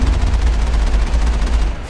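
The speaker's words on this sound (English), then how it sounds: "We have like a machine gun, pistol, and sort of like a cannon on this Mako" In the Mass Effect video game, the Mako vehicle's machine gun chatters in a dense, continuous rapid burst over heavy low rumble, loud and close, with no talk.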